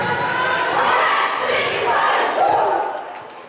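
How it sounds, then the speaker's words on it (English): A roller derby crowd in Bergen cheers and claps for both teams after a bout, a loud wash of shouting and whooping with applause that swells and then fades toward the end. "Give it up to both teams, please."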